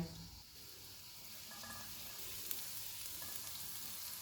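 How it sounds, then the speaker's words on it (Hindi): Quiet, steady sizzling of chopped garlic frying in hot oil, with a soft continuous crackle and an occasional faint clink. "ऑयल गर्म हो गया, इसमें 1 टीस्पून चॉप किया हुआ लहसुन डालेंगे और इसको 1 मिनट तक भूनेंगे"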